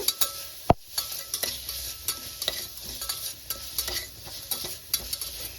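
Onions roasting in oil on a high flame for a temple-style pumpkin sambar, stirred with a spoon that taps and scrapes the pan in quick irregular strokes over a quiet, steady sizzle, one sharp knock standing out early.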